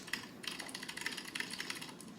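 Steady typing on a mechanical keyboard with deeper key travel gives off a fast stream of close, clacky keystrokes, with no pauses and no voices.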